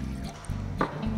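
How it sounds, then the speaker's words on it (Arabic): Water and milk are poured into a bowl to start crepe batter. A soft, brief liquid splash and trickle is heard up close and quiet, lasting about a second. "كنديرو كاس ديال الماء، كاس ديال الحليب"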